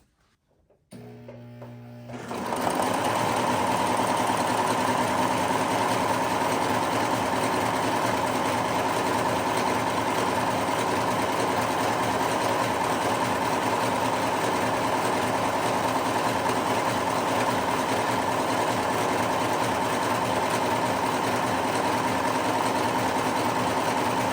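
An overlocker sewing machine runs steadily through a thick hem, a loud, continuous mechanical whir with a fast stitching buzz that starts after a brief quiet moment and holds evenly to the end.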